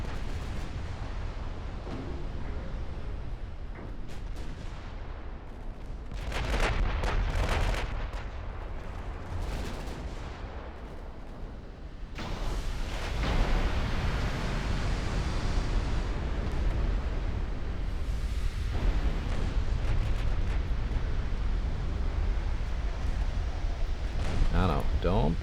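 Warship main guns firing in the naval game Ultimate Admiral: Dreadnoughts: deep, booming artillery blasts rolling into a continuous rumble of repeated heavy salvos, loud and sustained.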